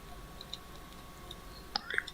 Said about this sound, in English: Jeez, I don't know what that noise is on this chair.